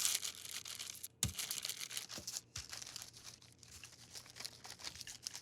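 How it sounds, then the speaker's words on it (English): Parchment paper sheets crinkle and crackle close by as pastry is rolled between them for a gluten-free pie crust, with irregular soft rustles and a few sharper crunches. "Another advantage to rolling the pastry between the parchment"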